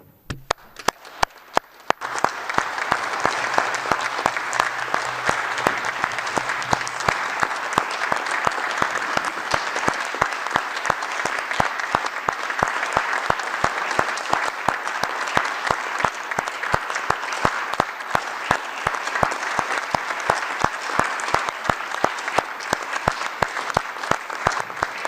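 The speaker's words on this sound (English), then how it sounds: "Please join me in clapping, shouting, and stamping your feet for every health and care worker" Sustained applause at an international health assembly for health and care workers: a few scattered claps grow into steady, dense clapping that carries on evenly and loudly for a long stretch, with little voice audible.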